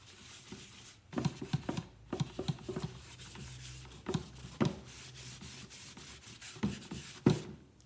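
Hand sanding along the edges of a wooden project, quiet gritty rubbing strokes in irregular bursts with short pauses between passes, close by and fairly soft, with no talking.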